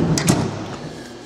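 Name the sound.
operator door of FC-250EX grinding machine closing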